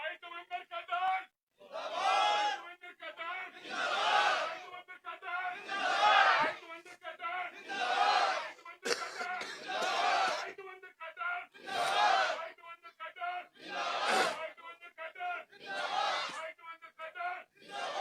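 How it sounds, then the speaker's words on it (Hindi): Crowd at a village political gathering chanting slogans with raised arms, loud repeated shouted bursts in a call-and-response rhythm, one after another with brief gaps. "अब एक बार नारे और लगा के दिखाएंगे।"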